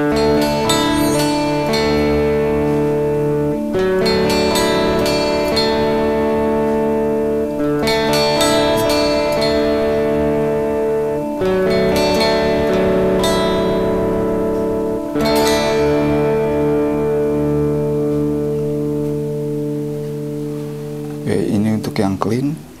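An electric guitar through a Boss DS-1 distortion pedal with the tone knob at seven o'clock, playing loud, sustained distorted chords that are struck afresh about every four seconds and ring out between strums.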